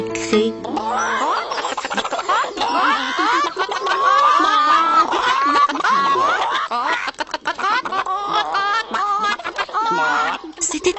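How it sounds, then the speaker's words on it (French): A flock of hens in a henhouse, clucking and cackling all at once in a loud, busy, overlapping chorus that carries on steadily throughout. "Toutes les poules caquetaient à qui mieux mieux."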